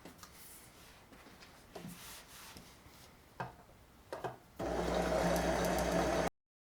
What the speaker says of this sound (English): Anna, we got our side seam together, so our skirt is starting to stick.